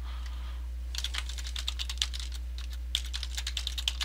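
A password is typed on a computer keyboard in quick, uneven bursts of close, crisp key clicks, with a short pause partway through and a low steady hum underneath.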